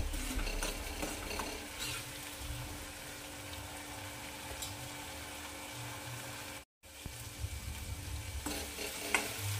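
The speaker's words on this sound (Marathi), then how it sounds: "छान असं स्लो आचेवर या मसाल्याला परतून घ्यायचं आहे।" Rajma masala is sautéed on a low flame in a quiet, steady sizzle with soft stirring scrapes, broken by a brief dropout partway through.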